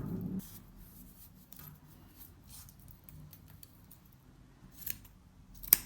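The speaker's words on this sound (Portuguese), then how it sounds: "agora, nós vamos cortar aqui essas pontinhas e acertar" Scissors snip off crochet yarn ends on a handmade midi dress, with a few close, quiet cuts and light handling sounds in between.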